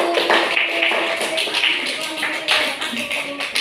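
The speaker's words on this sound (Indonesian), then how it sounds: "beri tepuk tangan untuk kelompok 1" Classroom applause for a student group, a dense burst of many hands clapping together for a few seconds, with a teacher's voice faintly mixed in.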